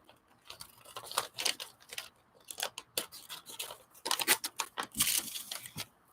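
Scissors snip and slice through paper at a craft table in repeated bursts of crisp cutting and rustling, close and moderately loud, with no talking.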